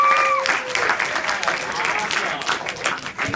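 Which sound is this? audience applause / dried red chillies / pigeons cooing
audience applause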